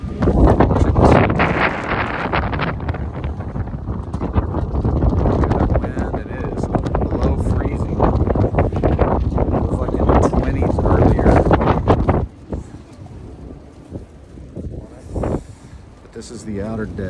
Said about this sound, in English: It's real windy, real cold.